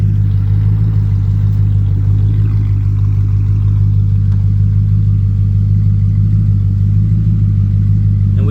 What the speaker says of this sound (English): that's pretty much how she sounds cold started and just sitting there idling